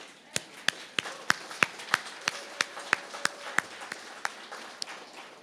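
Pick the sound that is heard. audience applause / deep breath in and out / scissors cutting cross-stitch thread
audience applause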